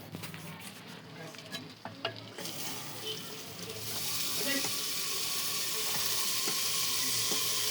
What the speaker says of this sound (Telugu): ఇప్పుడు మనము చికెన్ వేసుకుందాం ఫ్రెండ్స్.